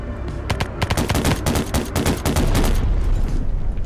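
Close, loud bursts of rapid gunfire from an aircraft shooting down an enemy in a flying combat game, a rattling volley of dense shots that swells and then tails off.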